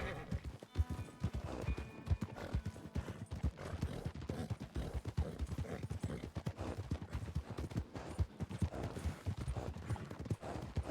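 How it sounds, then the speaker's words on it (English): Horse hooves clip-clop in a steady, continuous rhythm throughout a video game on a late-night server, with a whinny among the dense, close hoofbeats and no talking. "Please tell me I can sell this horse."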